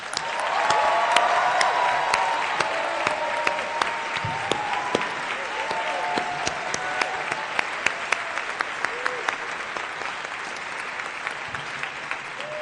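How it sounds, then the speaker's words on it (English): A large awards-show audience claps at length, a loud, dense roar of hands with a few whoops at first, then slowly thinning as the applause tapers off over several seconds. "give everybody in this room, in front of and behind the camera, a round of applause"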